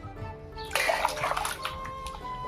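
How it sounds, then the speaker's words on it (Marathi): About fifteen kilograms of round potatoes being washed in water, giving a sudden burst of splashing and sloshing partway through that settles into lighter dripping and swirling, close by, with no talk. "आता सर्व धुवून घेणार आहे"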